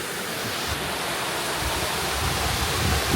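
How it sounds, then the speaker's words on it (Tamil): Aruvikkuzhi waterfall near Thekkady, Kerala, pours in a steady, loud broadband roar of falling water, constant throughout with no voices. "தண்ணி அழகாக விழுகுது."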